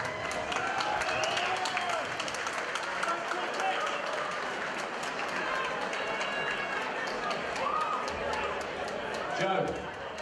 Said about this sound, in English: please make some noise for your runner-up, Richard Deakin.